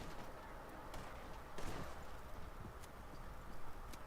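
Horse hooves clip-clop at a steady walking pace amid a noisy Red Dead Online game soundscape, with a few sharp distant cracks.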